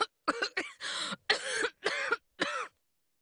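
A series of harsh coughs, five or six bursts in quick succession, close and loud, then silence.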